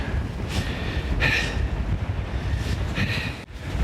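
Winter wind blasts across an exposed Scottish mountain, buffeting the microphone in a loud, continuous roar that swells in gusts.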